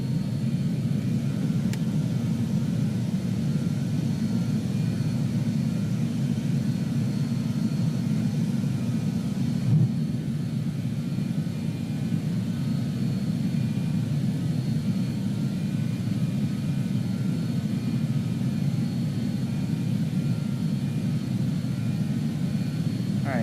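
A BAe 146 jet in Microsoft Flight Simulator 2020 taking off and climbing, heard as a steady, even engine roar and rumble that holds for the whole stretch, with no talking.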